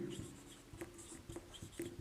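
Pen scratching across paper while a Class 10 maths exam answer is written out, a steady run of short soft strokes with small taps, close and quiet, no talking.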